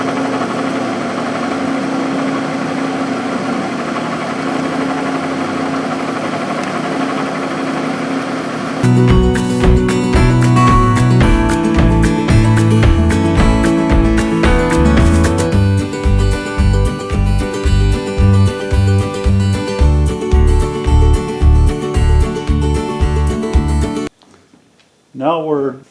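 Power tool cutting steel brackets for an improvised bridge crane, starting after a steady motor drone and running as loud repeated cutting strokes in a regular rhythm, close up, before stopping abruptly near the end.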